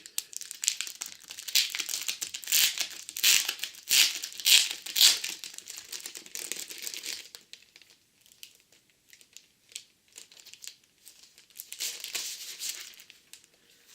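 A pack of A4 glitter paper is torn open, and its plastic packaging crinkles and crackles in repeated bursts close to the mic for several seconds. The sound thins out midway, then returns with a few more rustles near the end, and nobody speaks.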